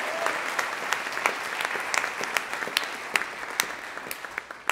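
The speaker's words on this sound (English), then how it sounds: "Can we give them a round of applause for their support?" Audience applause for event sponsors, a dense burst of clapping from a seated crowd that stays loud and steady throughout, with scattered sharper claps standing out.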